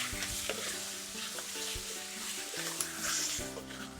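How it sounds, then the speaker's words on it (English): Pork and onion fry in a pan as the fat renders, giving a close, steady sizzle with stirring and scraping throughout. "we're going to add the pork and render all this fat and keep cooking it until the pork and the onion are really"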